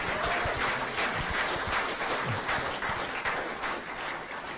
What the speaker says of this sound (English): big round of applause for the CCDD and the work that they do here